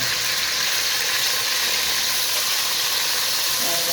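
Onions sizzle in hot ghee while cooking a palak gosht, a steady, loud, close-up frying hiss that carries evenly throughout with no one speaking.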